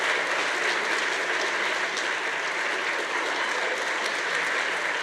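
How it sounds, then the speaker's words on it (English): Continuous, full applause from a large audience at a university honors medallion ceremony, even and loud for the whole stretch with no voices standing out. "let's give Dr. Wolf a round of applause to himself"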